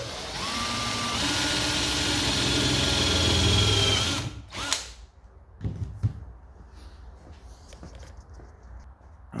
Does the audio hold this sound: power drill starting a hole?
yes